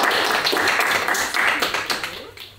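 A small group of people clapping indoors during a Jackbox party game in an old house, a fairly loud scatter of claps and taps that thins out toward the end, with no one talking.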